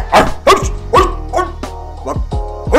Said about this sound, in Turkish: Bak kapıya bir de köpek bağırmış ha